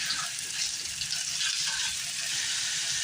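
Hot dog pieces and ground beef sizzle steadily in a hot pan, a dense, even frying hiss with faint stirring, close and moderately loud with no talking.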